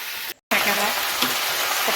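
Vegetables fry in a pan with a bright, continuous sizzling hiss, broken by a short silent gap near the start.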